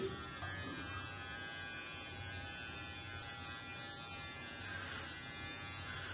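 An electric precision beard trimmer fitted with a 3 mm comb buzzes steadily and continuously while trimming a beard, close and even in level, with no talking.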